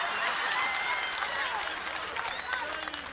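Audience applause at a stand-up comedy set on race, a dense crowd clapping continuously and loudly throughout, with a few cheers rising from the mass.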